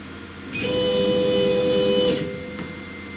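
A Thunder Laser Nova 35 100W laser cutter's head tracks across the bed with a smooth, steady motor whine lasting about a second and a half, starting and stopping cleanly, close by.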